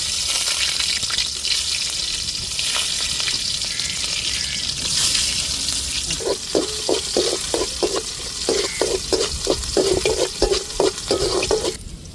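Onions going into hot oil with fenugreek in a pan for fish curry, a steady loud sizzle throughout, joined partway by a run of quick rhythmic scraping stirs near the mic.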